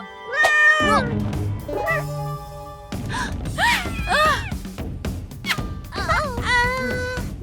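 A cat meows repeatedly, several drawn-out, rising and falling cries close by, with short pauses between them.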